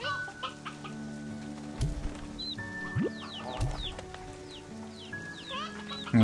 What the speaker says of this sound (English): then comes Hillyan, rapid fire chickens from his gun.